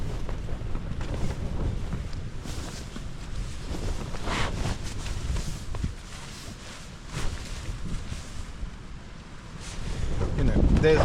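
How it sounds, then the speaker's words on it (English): Strong wind buffets a camp on wild, windy Dartmoor, roaring continuously with gusty surges and heavy rumbling microphone buffeting, swelling louder toward the end. "we're certainly being buffeted by this wind"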